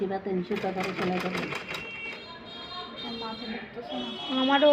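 A sewing machine stitches blouse fabric in short bursts of rapid mechanical clatter, close and fairly loud, with someone talking over it.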